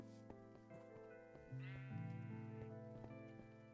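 In a video game, a cat meows and sheep bleat in tonal, wavering cries over a soft music bed, close and fairly quiet.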